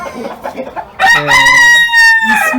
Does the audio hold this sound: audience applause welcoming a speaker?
no